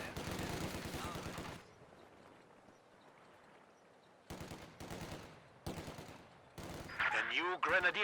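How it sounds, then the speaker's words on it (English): Machine gun fire in a Company of Heroes 2 battle, dense rattling bursts of several seconds separated by pauses, loud and close, with scattered shots and a commentator's voice at times. "Machine gun coming in from the side, but Pathfinders might see this coming."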